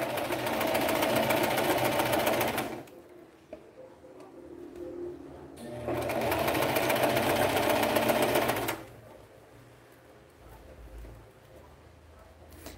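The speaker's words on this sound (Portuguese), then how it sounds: "Vai colocando ele aqui no lugar e vai costurando." Sewing machine stitching horsehair braid (crinol) onto a garment, two loud sustained bursts of fast rhythmic needle clatter separated by quiet pauses, close to the microphone, with no talking.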